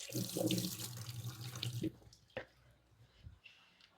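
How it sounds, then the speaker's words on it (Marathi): Water runs from a home tap as hands are washed while preparing an offering plate for Guru Purnima, a steady splashing rush for about two seconds that cuts off, followed by a sharp knock and quiet room sounds. "हात धुवून घेते"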